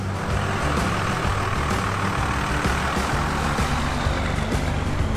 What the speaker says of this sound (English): how the truck is driving with the trailer hooked up